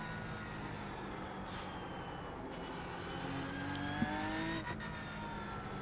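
Race car engines in a racing video game, a steady droning roar of several cars with a rising whine as a faster car closes in, loud and continuous with no talk.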